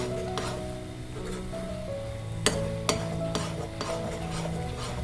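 A spoon or ladle stirs a coconut mixture in a pan, rasping steadily against the metal with a few sharp scrapes and taps over a low cooking hiss.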